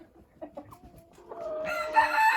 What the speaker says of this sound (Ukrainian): кури завелися биться